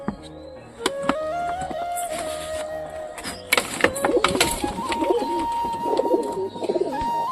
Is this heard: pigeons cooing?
yes